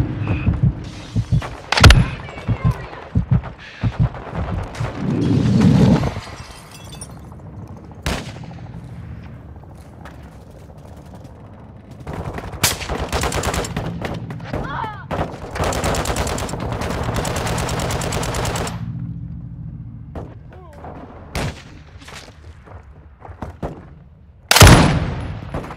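Gunfire in the Call of Duty: Modern Warfare II video game, with sharp single shots and automatic bursts scattered across the scene, some heavy booms, and stretches of dense sustained firing between quieter gaps.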